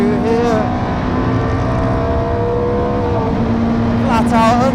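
Ferrari 430 GT3 Challenge race car engine held at full throttle, a loud sustained mechanical roar with steady harmonic tones and a brief pitch shift near the end.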